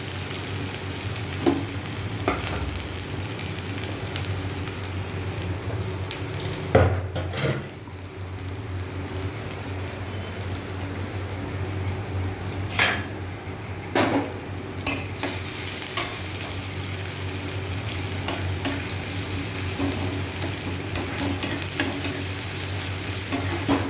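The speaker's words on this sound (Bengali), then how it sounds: "এবার এই যে এই তেলের মধ্যেই আমি কেটে রাখা পেঁয়াজটা আগে দিয়ে দেবো।" Chopped onion frying in hot oil, a steady sizzle running throughout with occasional stirring clatters and a few sharper pops, close and moderately loud, with no talking.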